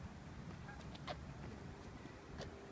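Geese or similar waterfowl call faintly in the distance, a few brief honking cries over steady outdoor background noise.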